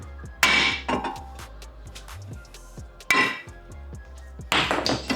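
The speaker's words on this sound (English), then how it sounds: "I'll grab the hammer, hit it here. Don't hit the wheel studs, just hit it here." Several heavy metallic hammer blows on the front brake rotor of a 2006–2009 Ford Fusion, spaced irregularly, each ringing briefly with a clanging resonance, close and fairly loud.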